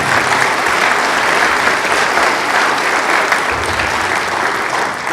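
Concert audience applauding a band, loud continuous clapping from a large crowd that holds steady throughout, with faint voices mixed in.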